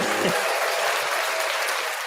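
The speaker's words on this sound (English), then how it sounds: "Clap it up for us." Steady applause from a crowd, a dense wash of clapping that stays loud and even for about two seconds.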